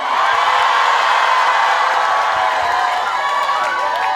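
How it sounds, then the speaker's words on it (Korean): A festival crowd at the Yeongdong grape festival applauds and cheers for a singer, a loud, continuous wash of clapping and shouting that fades slightly toward the end. "이렇게 꽃도 주시고 박수도 주시고 소리도 막 이렇게 질러 주셔가지고"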